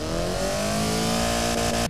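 A virtual car engine in the game Automation, fitted with a new muffler, revs in a steady high drone that cuts off abruptly at the end.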